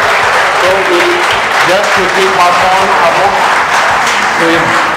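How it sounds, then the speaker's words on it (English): Audience applause at a medical quiz final round at the Army College of Medical Sciences in Delhi, a steady wash of clapping under loud, continuous talk and voices throughout. "Give him a round of applause"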